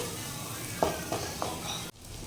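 Kashmiri chili powder stirred in hot oil for a hilsa curry, a steady soft sizzle with a few light scraping stir strokes, ending in a brief sharp drop partway through.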